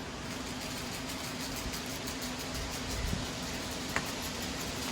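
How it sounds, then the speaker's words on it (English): Wind blowing outdoors beside a steak deep-frying setup, heard as a steady, even rush of broadband noise over a low rumble that holds for the whole stretch, with a faint tap near the end and no talking. "You hear that wind blowing?"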